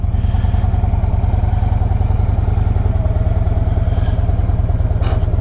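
A motorcycle rides slowly on a road ride, its engine thumping in a loud, rapid, even pulse close to the microphone, with a brief clatter near the end.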